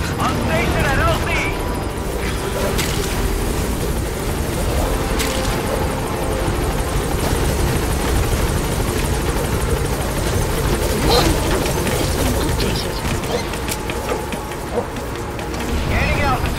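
Support helicopter setting down at a landing zone in Metal Gear Solid V: The Phantom Pain, a continuous rotor thrum and whine throughout, with radio voices and game sounds layered over it.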